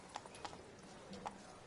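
Roach the horse galloping in Witcher 3, a faint, quick run of hoof clip-clops in uneven bursts, distant and quiet with no speech.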